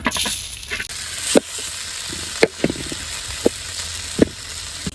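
Sliced pointed gourd fries in oil with a continuous hiss, broken by several sharp knocks and scrapes from a utensil stirring in the pan.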